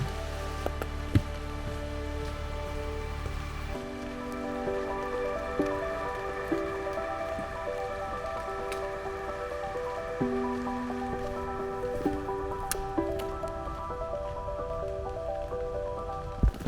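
Steady rain patters and drips on nearby surfaces during a hike on the Laurel Highlands Hiking Trail, a continuous wet hiss with occasional louder drops, under a low droning hum; no talking.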